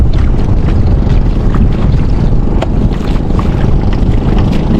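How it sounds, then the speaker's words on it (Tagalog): Strong wind over a lake buffets the microphone in a loud, constant rush, with the rumble of a boat and lapping water beneath. "Malakas na yung hangin. May alon na naman."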